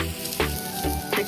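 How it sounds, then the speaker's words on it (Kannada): Grated coconut and spices frying in a hot pan for a homemade mutton kheema gravy, giving a steady close sizzle with a few louder bursts as the mixture is stirred. "ಕೊಬ್ಬರಿನೂ ಮಸಾಲ ಜೊತೆನೆ ಹುರ್ಕೋಬೇಕು."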